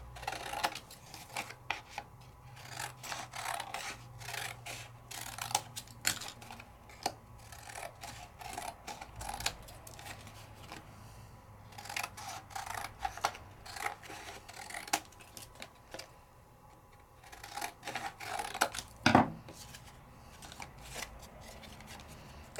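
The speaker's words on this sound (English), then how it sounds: "Let's just trim it on out." Scissors snip repeatedly through paper in a craft project, crisp close cuts in irregular bursts with brief pauses and paper rustling, no voices present.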